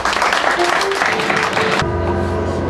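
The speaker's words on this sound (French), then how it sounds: "Je voudrais vraiment qu'on l'acclame fortement." Graduation ceremony audience clapping loudly and densely in a packed room for almost two seconds, then cut off abruptly, leaving a low hum and a sustained tone.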